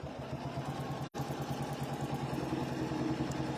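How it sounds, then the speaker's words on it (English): A sewing machine stitches a quilt block at a slightly faster pace, a steady close whirring hum that drops out for a split second and then runs on without talk. "Now we can start sewing just a little bit faster"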